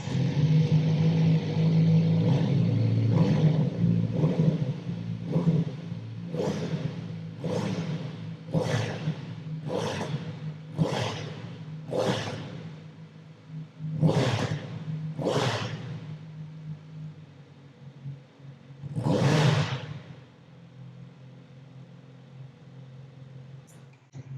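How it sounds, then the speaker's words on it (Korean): A 2023 Kawasaki Z900RS SE motorcycle idles close by on its stock muffler, then gets a run of about a dozen sharp throttle blips that rise and fall, ending in one final longer rev. "순정 머플러의 배기 사운드 한번 들어보면서"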